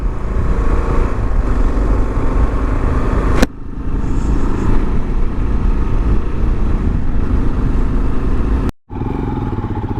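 A 2022 Royal Enfield Himalayan motorcycle climbing a hill, its single-cylinder engine loud and close with steady pulling drone and wind rush, briefly dropping out and returning near the end.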